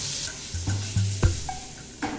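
Vegetables simmer in a pan over a weak hotel stove flame in Oaxaca, Mexico, with a few close scraping stirs and clanks against the pan above a faint sizzle; no one speaks.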